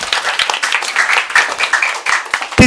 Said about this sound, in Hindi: ताली बजा दो उसके लिए।